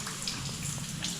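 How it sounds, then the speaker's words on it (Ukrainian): Water drips from a leaking hotel ceiling into a bucket in a cheap room in Colombia, a steady watery wash with a couple of slightly brighter splashes, moderately close and with no voices. "зі стелі капає, так що все нормально."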